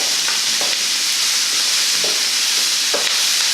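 Brussels sprouts sautéing in a pan, a loud steady sizzle with a few soft scraping strokes of stirring spaced about a second apart, close and without talk.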